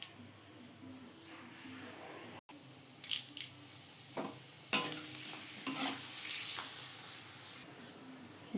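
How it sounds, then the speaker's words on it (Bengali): Dried red chillies fry in hot oil with a little sugar for Bengali chicken kosha, giving a low steady sizzle broken by a few sharp spoon scrapes and stirring clatters. "আর এরই মধ্যে দিয়ে দেবো 3-4টে শুকনো লঙ্কা।"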